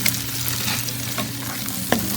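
Butter sizzles steadily in a pan as it is stirred into a tomato paste and pepper mixture for Turkish bulgur, a constant close frying hiss with a brief scrape of the utensil near the end.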